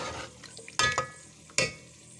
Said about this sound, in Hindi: दही का पानी खुश्क हो जाए और चिकन हमारा अच्छी तरह फ्राई हो जाए